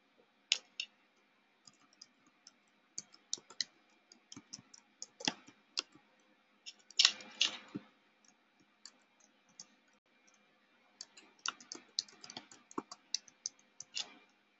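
Quiet, close keyboard typing comes in scattered bursts of light clicks, with a denser flurry near the middle and sharper single clicks like a computer mouse, with no speech.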